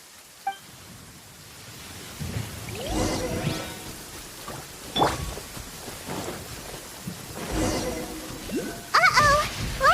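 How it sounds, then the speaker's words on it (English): A thunderstorm in Genshin Impact, steady rain hiss with several rumbling thunder swells and cracks rising and fading, plus a few brief chimes near the end. "Uh-oh! Lightning storm!"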